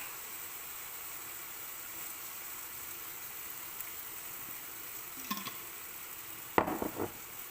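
Passata sauce simmers in a pan on low heat with a faint, steady sizzle. A utensil scrapes and clinks against the pan in a couple of short stirring bursts toward the end.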